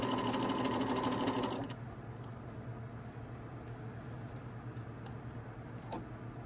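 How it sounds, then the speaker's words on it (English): A sewing machine stitches a stretched sleeve band onto a garment, running loud and fast at first, then dropping to a slower, quieter steady whir with faint ticking, close by and free of speech. "You have to sew this bottom layer and make sure the top's not getting sewn down, and also stretching at the same time."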